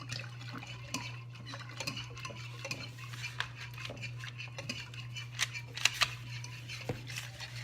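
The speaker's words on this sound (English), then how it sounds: "And you whisk it real good in there." Einkorn sourdough starter whisked in a bowl resting on a kitchen scale, a soft, irregular scraping and tapping of the whisk against the bowl, fairly quiet with a steady low hum beneath.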